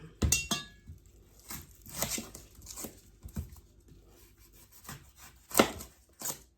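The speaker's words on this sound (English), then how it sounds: "I'm going actually to cut the onions very quickly" A kitchen knife chops an onion on a board in quick, irregular strokes, each a crisp thud with a short slicing scrape, close and clear with no talking.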